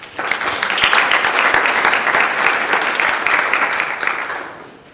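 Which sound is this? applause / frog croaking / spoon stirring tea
applause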